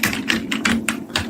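Fingers typing an SQL query on a computer keyboard, about half a dozen close, crisp key clicks in an uneven rhythm over a faint low hum.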